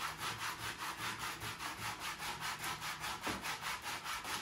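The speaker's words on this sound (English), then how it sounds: "a good piece of 80 grit sandpaper to smooth the cork down" Rhythmic back-and-forth sanding of a carved cork decoy body with 80 grit sandpaper, steady scratchy strokes about four per second, close and continuous with no talking.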